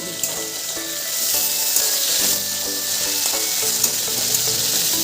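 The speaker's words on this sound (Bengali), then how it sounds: "এখানে গোটা তেজপাতা দিয়ে রাখলাম, আলুটা একটু ভাজা ভাজা হোক" Potatoes fry in a pan with a whole bay leaf, a loud continuous close sizzle with intermittent stirring clicks and scrapes against the pan, no voices.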